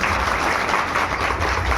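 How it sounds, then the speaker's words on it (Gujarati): An audience at a village community gathering in Surat claps loudly and steadily, a dense, continuous wash of applause with no pauses. "એના માટે જોરદાર તાળી પાડી આપી"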